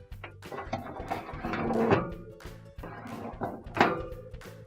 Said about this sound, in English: Now I'll put the racks back in.